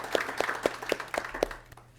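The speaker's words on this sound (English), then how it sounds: "Y'all, let's give them a round of applause." Sparse, scattered clapping from a small group thanking presenters at a natural resources meeting, about a half-dozen sharp claps at a steady rhythm that die away.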